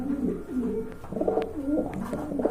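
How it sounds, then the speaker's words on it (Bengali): Pigeons at a pigeon market give close, loud, overlapping low coos in rolling phrases, one after another, standing clearly alone without talk. "এখানে কিন্তু দেখতে পাচ্ছেন আরেক জোড়া কবুতর রয়েছে।"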